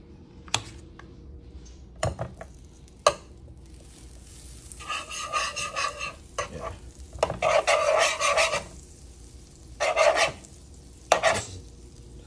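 Butter and pancake batter on a hot griddle give bursts of sizzling between sharp spatula scrapes and taps, loud and close, the frying swelling and fading in waves with no talk.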